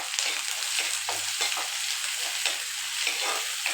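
Ginger and garlic fry with vegetables in a pan, giving a soft, steady sizzle broken by repeated scraping stirs, fairly quiet, with no voices.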